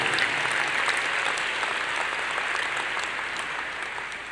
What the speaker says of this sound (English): I think they deserve one more round of applause